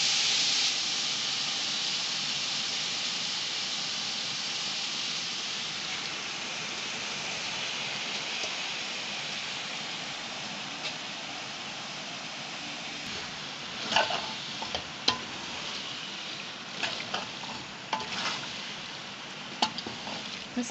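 Macaroni frying in a pan with mutton keema, cabbage and other vegetables over low heat gives a steady, even sizzling hiss throughout, with a few sharper crackles and stirring clatters toward the end and no talk.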